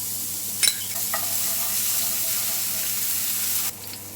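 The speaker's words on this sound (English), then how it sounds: "1 tablespoon of coconut oil into the pan. Then ginger garlic. Just fry these about 30 seconds." Ginger and garlic frying in a tablespoon of coconut oil in a pan, a constant soft sizzle with a couple of sharp clinks early on and a slight drop in level near the end.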